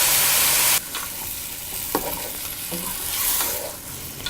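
Chicken pieces are stirred into frying masala in a pan for chicken mappas, a steady close sizzle with a few scraping knocks of the spoon, no voices.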